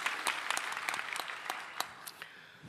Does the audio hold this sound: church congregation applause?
yes